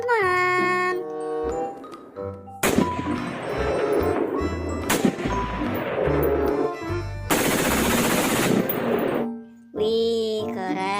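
Rapid bursts of toy pistol shooting effects, loud electronic machine-gun rattles and crashes in several blasts separated by short tonal beeps and chimes, with a rising electronic warble near the end.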